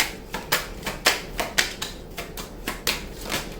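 Tarot cards are drawn and snapped from a deck in a quiet room, giving a steady series of about a dozen crisp, light card flicks and slaps, close and fairly soft, with no voice.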